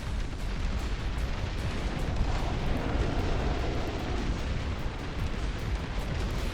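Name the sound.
turrets firing in Dust Front RTS video game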